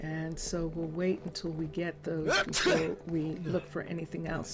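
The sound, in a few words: sneeze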